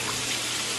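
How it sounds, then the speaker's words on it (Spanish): Two cups of milk poured into a pan holding butter and flour, a brief, steady liquid splash and pour filling the moment without speech. "le vamos a poner 2 tazas de leche"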